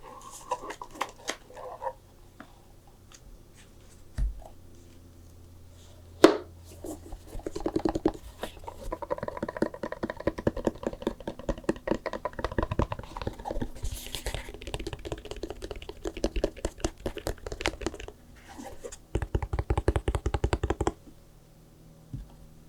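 A Magic The Gathering Commander deck box for Meren of Clan Nel Toth is opened up close: quiet, irregular tapping, scratching and clicking handling sounds in bursts, with a denser run of crisp rustles and taps toward the end.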